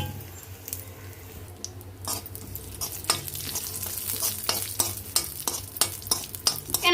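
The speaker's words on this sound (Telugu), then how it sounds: "కొంచెం నెయ్యి వేసుకున్నాం కదండి డ్రై ఫ్రూట్స్ వేసుకొని మొత్తం బాగా లైట్గా ఫ్రై చేసేసుకుందాం" Dry fruits frying in ghee in a pan, a soft sizzle under repeated scraping and stirring strokes that grow busier and louder, with sharp clinks of the spoon toward the end.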